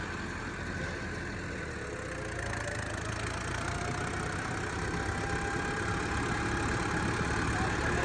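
A tractor engine runs steadily nearby in third gear, its rough mechanical drone gradually rising in pitch and loudness as it works.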